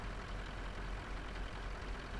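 A low truck engine in a video game idles faintly and continuously, a dull steady rumble with no other sounds over it.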